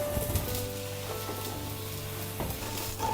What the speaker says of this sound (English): Oil it up and sear the champignons.